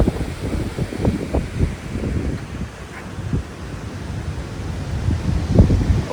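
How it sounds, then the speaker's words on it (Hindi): Waves wash onto a shore in low, rolling surges, with strong wind buffeting the microphone throughout. No voices. "समुंदर का जो शोर है, शांति, आप उसको सुन पा रहे होंगे।"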